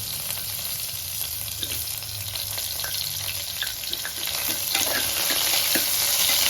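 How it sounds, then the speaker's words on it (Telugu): Sliced onions and green chillies fry in a pan with a steady hiss, close up, with occasional clicks of a stirring spoon and the sizzle swelling louder toward the end; no voices. "తర్వాత కొంచెం ఆనియన్స్ వేసుకోండి. అండ్ పచ్చిమిర్చి కూడా."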